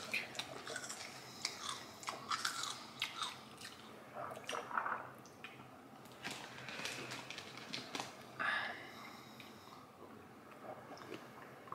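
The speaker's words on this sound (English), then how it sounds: "sorry you can hear me munching on Cheetos" Cheetos are munched close to the mic, with repeated crunchy bites and chewing bursts scattered unevenly, some louder than others, with no talk over them.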